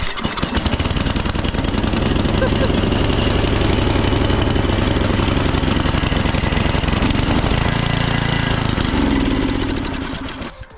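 Free secondhand snowblower engine catches and runs loud and close, chugging with a rough, uneven beat on choke before the sound tapers near the end.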